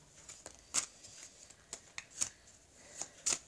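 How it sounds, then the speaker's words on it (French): A deck of tarot cards is shuffled by hand, giving soft, quiet riffling bursts and crisp flicks at an irregular pace, close by and alone. "on va mélanger les cartes"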